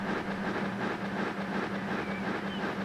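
A train rolls steadily through a UK setting in Transport Fever 2 with a constant engine drone and a rumbling rail noise. It holds at an even, moderate level throughout and no one speaks.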